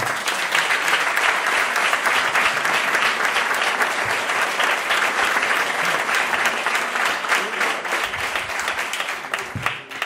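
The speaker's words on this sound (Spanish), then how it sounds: "ahora vais a aplaudir más" A hall audience at a public broadcasting event breaks into loud, sustained applause, dense clapping that stays strong throughout and thins slightly near the end, with faint crowd murmur beneath.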